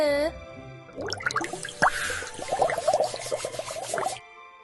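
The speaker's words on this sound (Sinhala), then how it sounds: "ඔයාට පුළුවන්නේ ටැප් එක වහලා දත් මදින්න" A tap keeps running while someone brushes their teeth. The splashing and dripping water continues under a voice that talks throughout.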